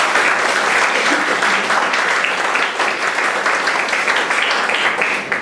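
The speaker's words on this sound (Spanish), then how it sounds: "nuevamente un aplauso fuerte al arquitecto" Strong, sustained applause from a lecture audience for an architect after his talk, a dense even patter of many hands clapping at close range throughout.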